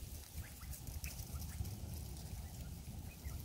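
Ducks, a mother with ducklings and two larger young, scuffle and rustle through lakeside bushes, a faint, steady close scratching with a few soft calls.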